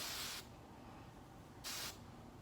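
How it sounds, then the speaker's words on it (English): Two short bursts of aerosol spray hiss close by, separated by a quiet pause. "if you want your hair more fluffy, you can put more spray"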